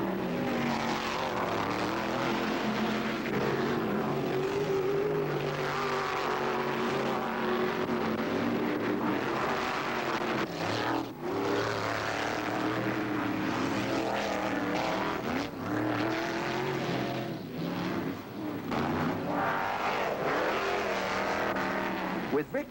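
Several USAC sprint cars race at Eldora Speedway in 1974, their engines roaring loud and steady throughout, surging and fading as cars pass, under continuous trackside commentary.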